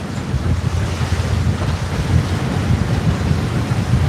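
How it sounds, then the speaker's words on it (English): A strong wind blows at sea on a sportfishing boat, a loud continuous rushing roar with buffeting gusts against the microphone and surf noise beneath. "it'd be nice if this wind would stop."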